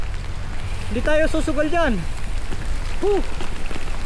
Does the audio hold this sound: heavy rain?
yes